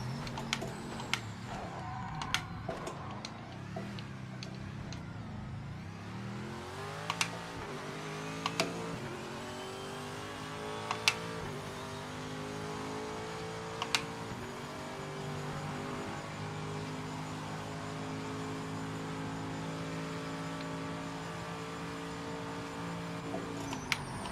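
Race car engines from the GT class in the PMR racing video game, including a Mercedes GT3 and an RX-7 GTO, rev and accelerate through rising, shifting gear whines, with sharp clicks scattered throughout.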